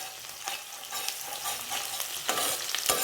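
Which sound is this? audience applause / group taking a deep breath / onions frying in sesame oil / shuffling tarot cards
onions frying in sesame oil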